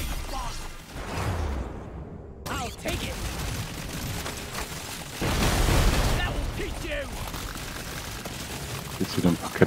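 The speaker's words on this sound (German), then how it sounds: "Jetzt wieder ein paar Kettenreaktionen und dann ist auch fast alles weg." Chain explosions burst in rapid succession in Deep Rock Galactic: Survivor, a dense crackling fusillade of pops and booms with whooshes, under steady game noise and someone talking throughout.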